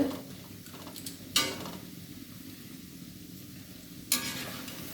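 Garlic and asafoetida fry in a pan with a steady soft sizzle, while two sharp clattering scrapes, likely of a spoon or ladle against the pan, break through a few seconds apart.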